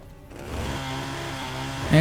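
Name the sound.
chainsaw melee weapon in Fallout: New Vegas video game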